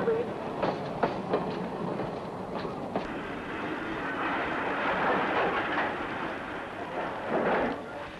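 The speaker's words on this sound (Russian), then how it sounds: "Николаев, пассажирский поезд, номер 526 из Москвы" Passenger train number 526 from Moscow rolls past nearby at Nikolaev: a broad, steady rumble with a few sharp clacks early on, swelling and fading as the carriages go by.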